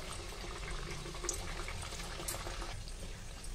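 Urad dal kachoris fry in oil heated on high, giving a soft, continuous sizzle and bubbling with a few faint pops and no talking.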